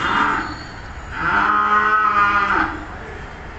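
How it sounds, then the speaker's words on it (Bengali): Large cattle at a farm in Old Dhaka, two long, loud moos close by with a pause between them, set against a busy background hum. "রাস্তার দুই পাশেই গরু"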